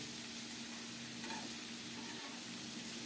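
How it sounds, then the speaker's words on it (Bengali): Bitter gourd and potatoes stir-frying in a pan, a quiet, steady sizzle with faint stirring, heard close and alone without talk. "এরকম করে নেড়ে ছেড়ে সুন্দর করে ভেজে নিতে হবে"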